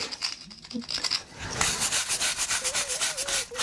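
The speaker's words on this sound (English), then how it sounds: "go with the wire brush. I just take off all the excess." Wire brush scrubbing excess mortar off the stones of an old pigsty wall during a French farmhouse renovation, starting softly, then becoming steady, close, rhythmic rasping strokes.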